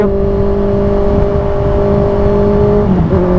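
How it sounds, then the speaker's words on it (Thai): A 2018 Honda CB650F four-cylinder motorcycle fitted with a 2.5-inch slip-on exhaust drones loud and close at steady revs, dipping briefly in pitch just before the end. "เสียงหวานซะด้วยสิสี่สูบ"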